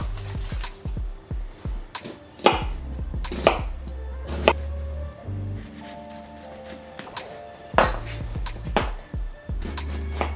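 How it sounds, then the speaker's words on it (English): Half an onion is diced and garlic cloves minced with a knife on a board, sharp scattered chops mixed with thumps and low rumbling board knocks, close up. "We're gonna finely dice a half an onion."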